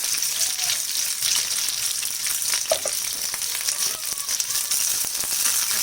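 Sliced onions sizzle in hot oil for matar paneer, a close, steady crackling fry with occasional stirring clinks and light rattles, no voices over it.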